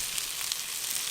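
Vegetables sweating in a pan outdoors in a garden, giving a steady, soft sizzle that stays even and fairly quiet across the short moment with no voices.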